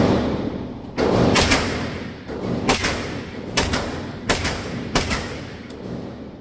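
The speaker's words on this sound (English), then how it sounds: "let's put a few more rounds down" Smith & Wesson Response rifle fired in a series of about six sharp, loud nearby shots, spaced irregularly with short ringing decay between them.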